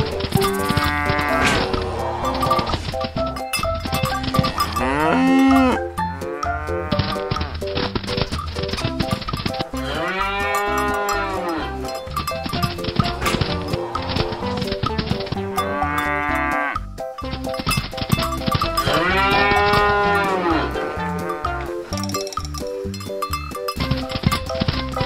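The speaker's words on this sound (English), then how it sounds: "We have some cattle," Cattle moo loudly and repeatedly in long drawn-out calls, with farm livestock sounds continuing steadily throughout and no talk.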